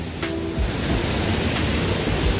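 A mountain stream rushes near Mujoochae Waterfall in Gapyeong after heavy rain, producing a steady, dense broadband roar of flowing water close by with no pauses.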